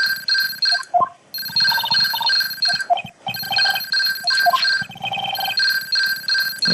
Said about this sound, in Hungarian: Csörgés!